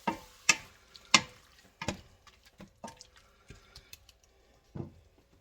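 Onions and peppers in a stir-fry pan give off a series of sharp clacks and scrapes from stirring, irregularly spaced and fairly close, over a faint low sizzle.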